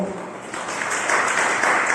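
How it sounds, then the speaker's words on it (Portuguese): Church congregation clapping to welcome a visitor during a worship service, a dense, steady wash of applause that builds slightly and carries on to the end. "Uma salva de palmas para ele, então."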